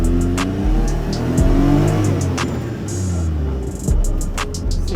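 The Oeion Reeper vehicle's engine revs and strains on a test drive, a loud, close roar rising and falling through gear changes, with brief squeals and clatter over the top.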